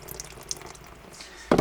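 Water draining and dripping from a papermaking mould after shaking, a soft trickle with scattered drips that ends in a louder splashing burst at the close.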